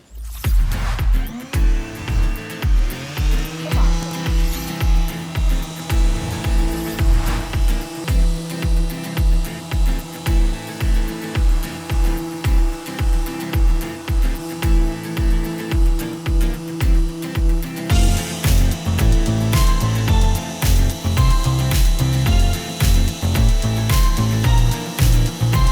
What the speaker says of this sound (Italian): mi sono portata la mia levigatrice, la batteria a lato così non mi pesa, e l'ho collegata al mio aspirapolvere